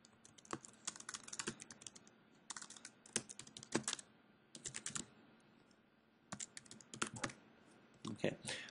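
Quick, uneven bursts of typing on a computer keyboard, close and moderately quiet, with brief pauses between clusters of keystrokes.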